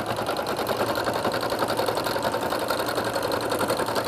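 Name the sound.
sewing machine stitching bulky fleece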